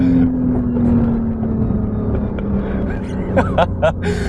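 A 2017 Porsche 911 Carrera in sport mode, rated at 370 horsepower, pulls hard with a sustained engine roar rising in pitch, close and loud. Voices speak excitedly over it toward the end.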